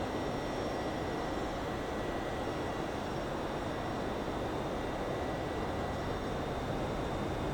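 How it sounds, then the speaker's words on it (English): Boeing 767 cruising in the flight simulator X-Plane 11, heard as a steady, even broadband roar of engine and airflow noise inside the cabin, continuous throughout with no talking. "I love how the sounds change depending on where you're at in the plane."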